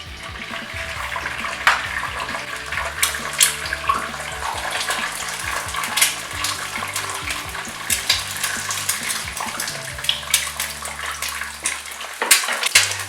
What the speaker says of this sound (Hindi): एक पैन में मैंने ऑयल डाल लिया है जो कि गर्म हो रहा है। एक अंडा फ्राई करूँगा।